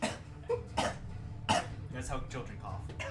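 Several short, raspy coughs from a person imitating how children cough, sounding in quick bursts close to the microphone amid ongoing talk.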